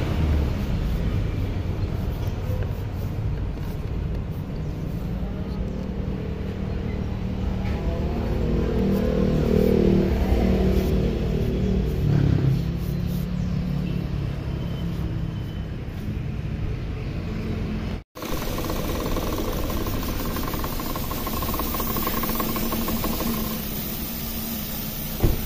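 Suzuki Ertiga engine idling after an engine flush, a steady, smooth low hum that runs continuously at moderate loudness with a brief cut partway through.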